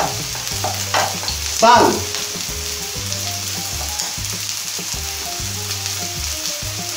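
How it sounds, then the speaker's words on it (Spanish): Garlic, onion and pepper sauté in a pan for paella, a steady close frying sizzle with a brief stirring scrape, over a soft repeating low musical beat. "Lo vamos a rehogar como un par de minutos."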